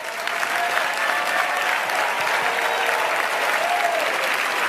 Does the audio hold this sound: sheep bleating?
no